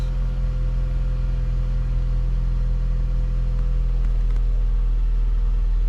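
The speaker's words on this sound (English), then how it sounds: "I'm gonna let the engine run for a few minutes." A 2020 Hyundai Veloster base 2.0 engine idles steadily, a low, even hum with a constant tone and no change in pitch for several seconds, with no talking.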